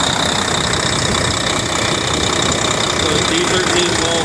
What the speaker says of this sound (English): So here's the motor. She runs really good, idles really good.